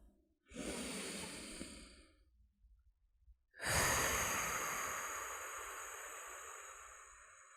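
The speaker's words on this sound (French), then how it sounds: "Prenez une grande respiration pour évacuer vos tensions." Two slow, deep breaths during a sophrology relaxation session for pregnancy bed rest, close and soft, each a long airy inhale and exhale with a short quiet gap between them.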